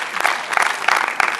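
Audience applause at a French film premiere: loud, dense clapping that swells in several rhythmic waves from a crowd close by.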